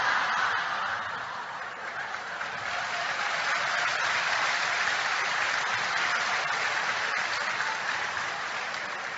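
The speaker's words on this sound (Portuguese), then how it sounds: "Ora, eu não entendi essas palmas." Steady, sustained applause from an audience at a spiritist lecture hall fills the whole stretch, a dense wash of clapping at moderate level with no voice on top.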